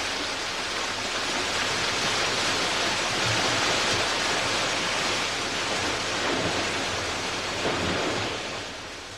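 Mountain rainwater tumbling through forest streams, a dense, continuous rush of flowing water, loud and steady, swelling slightly mid-way and easing off at the end.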